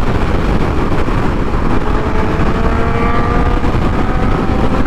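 Kawasaki Ninja H2 motorcycle engine under way, a loud steady roar with wind rush, close and continuous throughout, no talking over it.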